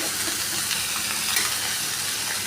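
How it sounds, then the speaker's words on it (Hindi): Chopped potatoes and cabbage fry in a pan with a loud, continuous close-up sizzle and hiss, broken by faint scraping stirs, with no one talking. "अब डाल लिए हमने यहाँ पे आलू डाल लिए कटे हुए, इन्हें भी भून लेंगे थोड़े से"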